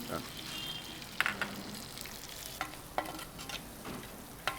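Chopped tomato hits a pan of frying chilli and ginger and sizzles steadily, with a few sharper spatula scrapes and stirs cutting through the close, continuous crackle.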